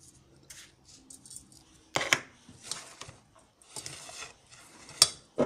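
Pepper mill grinding pepper onto cabbage roll filling, a series of short, crisp ratcheting crunches in quick bursts, fairly faint and close, with no talking.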